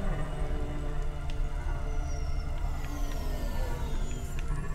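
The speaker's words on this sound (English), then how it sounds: "it's always raining." Steady rain in the neon city of the video game Cloudpunk pours continuously under a low, droning hum, with faint tonal sweeps gliding through the background and no voices.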